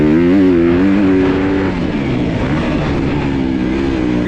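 A KTM 125 dirt bike engine revs hard and close, its pitch climbing and wavering in sustained loud bursts that never drop to idle, with no voices.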